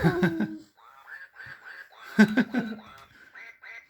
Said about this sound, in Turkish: Böyle şarkı söylüyor bu ördek arkadaşlar.